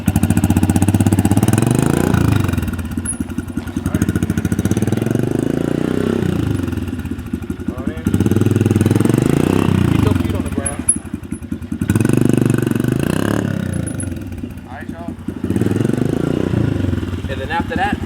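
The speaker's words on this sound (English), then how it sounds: "So first take off, nice and slow, clutch out, stop." A Honda CRF125F dirt bike engine revs and pulls away slowly in low gear, its uneven mid-pitched drone rising and falling through several short takeoffs, loud and close throughout.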